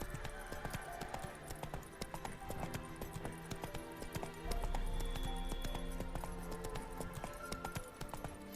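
Hooves of Geralt's horse Roach clip-clopping at a steady gait in The Witcher 3: Wild Hunt, set against a continuous game music score, with the footfalls fairly close and rhythmic throughout.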